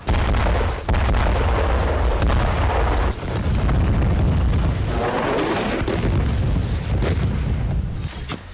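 Explosions from bombing in Khan Younis, Gaza, sound as a continuous barrage of loud, rumbling booms, with heavy low blasts layered one on another and only brief dips between them.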